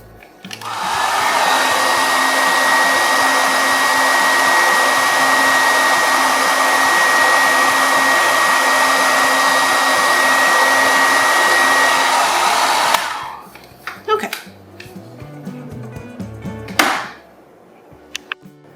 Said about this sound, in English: Just hit that with the hairdryer real quick.